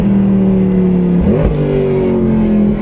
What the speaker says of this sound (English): Can you hear it blip each time you downshift?